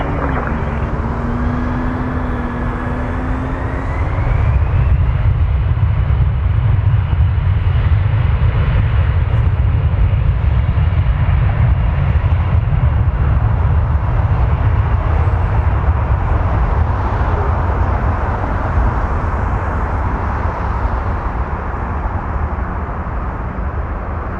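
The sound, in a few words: airplane taking off at Toronto Pearson airport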